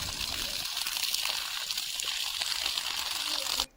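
Water pours from a pipe fed by a storage tank onto a hillside field of pea sowing, a steady, hissing splash close by that cuts off abruptly at the end.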